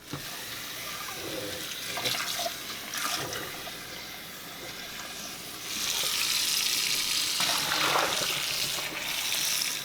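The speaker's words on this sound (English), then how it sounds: "And next I'm gonna rinse really, really well." Tap water runs steadily into a jun/kombucha brewing vessel as it is rinsed, a continuous splashing rush that swells louder partway through, with no voices.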